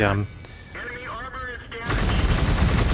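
A tank cannon fires in a World of Tanks style match involving a Waffenträger and Panzer IV, a sudden loud blast breaking in after quiet engine rumble and a brief earlier pop, followed by sustained crackling roar.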